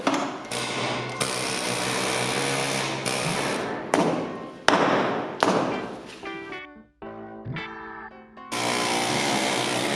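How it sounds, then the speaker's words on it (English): Chiseling into a concrete floor on an off-grid homestead concrete dome build: loud, close bursts of rapid mechanical hammering, stopping and restarting several times with short pauses between. "Got to do a little chiseling."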